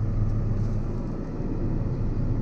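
Steady low engine rumble from a tractor with a Vario transmission rolling forward under pedal control, continuous and fairly loud without change in pace or any voices.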